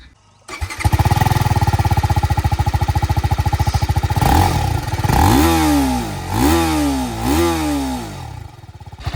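TVS Apache RTR 310 motorcycle engine, a 2023 model, idling close-up with a steady rapid thrum, then three sharp revs that rise and fall in quick succession, loud and without any talking.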